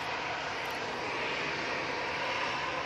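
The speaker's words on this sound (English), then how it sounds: "Ryanair 737 off to Krakow" A Ryanair Boeing 737 jet airliner, its engines giving a steady, even roar at moderate distance, continuous and with no talk.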